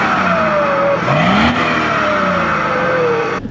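A diesel BMW E60 530d M Sport revs hard once, its engine note climbing and falling back, then settles into a steady, loud drone up close.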